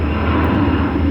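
Airplane flying overhead outdoors at night, a loud, steady engine roar that fills the whole moment with no talking.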